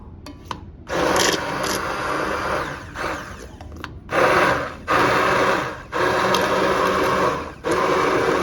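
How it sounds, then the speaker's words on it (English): A spoon scrapes through thick homemade apple butter in a pot, making repeated loud rasping stir strokes close up, separated by short pauses, with no talking. "let me stir it up to make sure I get around the"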